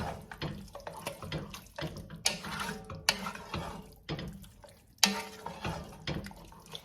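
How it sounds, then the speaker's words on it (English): A tomato meat sauce gets stirred in a single pan, giving irregular scraping and sloshing strokes with soft clinks of the utensil against the pan, close by and fairly quiet. "I'm going to stir it up for a minute."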